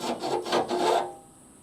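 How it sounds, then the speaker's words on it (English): Metal frame rail being filed to remove a burr, heard as a few quick, close rasping strokes over about a second before it goes quiet. "What I'm doing is I'm trying to get the burr off of this to make sure that we got solid metal all around."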